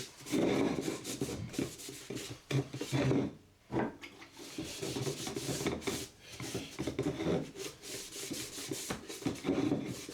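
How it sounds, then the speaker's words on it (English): A cloth wipes polyurethane finish onto a small wooden pot stand built from a 2x2, giving soft, close rubbing strokes in uneven bursts with brief pauses between passes. "For protection and its gloss effect, I give it 2 coats of wipe-on polyurethane."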